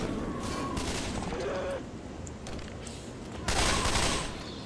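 Rapid gunfire in the zombie game Left 4 Dead 2, with dense bursts of shots running through the scene and loudest near the end, set against game noise.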